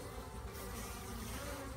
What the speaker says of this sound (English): there's a lot more activity at the front of the hive at both entrances